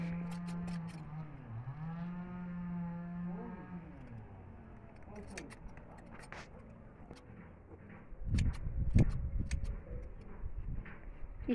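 A calf on a farm gives a long, drawn-out moo that bends in pitch over several seconds, followed by ticking clatter, rustling and a louder burst of thumping noise near the end.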